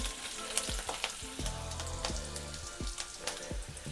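Green chillies, dried red chillies and chana dal frying in oil in a pan, cooked for a drumstick-leaf dish: a faint crackling sizzle with repeated low thuds and scrapes of stirring, close and without speech.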